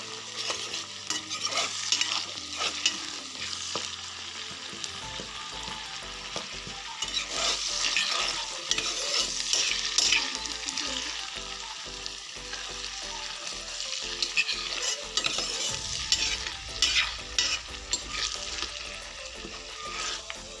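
Flowers and leaves fry in hot oil for a hair-care preparation, a continuous loud sizzle with steady scraping and stirring strokes throughout and no voices.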